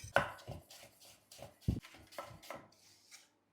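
A knife chopping a pumpkin into slices on a cutting board, about eight sharp thuds at an irregular pace, close and clear with quiet gaps between cuts.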